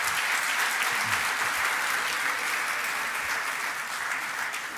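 Sustained applause from a seminar audience honoring an international guest speaker, steady and dense throughout, with a few faint voices mixed in.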